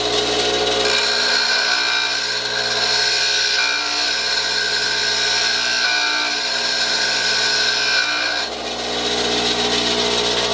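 Cutter bits from a Toledo No. 1 pipe threading machine being sharpened on a grinder, a steady, loud, high grinding whine that holds for about eight seconds, then briefly drops off before resuming.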